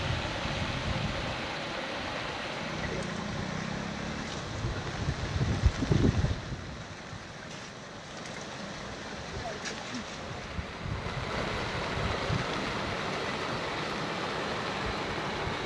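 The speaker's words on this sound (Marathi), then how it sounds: "पाण्याचा प्रवाह वाढतोय आणि म्हणून शहरात असणाऱ्या राजाराम बंधाऱ्यावर सुद्धा पुन्हा दुसऱ्यांदा पाणी आलेलं आहे" Swollen river water pours over the Rajaram weir in Kolhapur, a continuous broad rushing roar mixed with wind buffeting the microphone, steady throughout with a brief louder surge midway.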